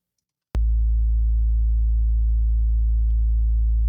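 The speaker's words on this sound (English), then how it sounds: "So I have a synthesizer pulled up here, just oscillating a sine wave" A synthesizer sounds a steady 50 Hz sine wave, a deep continuous hum. It starts abruptly after half a second of silence and holds at an even loudness to the end.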